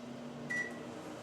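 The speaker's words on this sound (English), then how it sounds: "We put this in the microwave for 1 minute and 30 seconds" A microwave oven melting gum gives a faint, steady hum, with a short high beep near the middle.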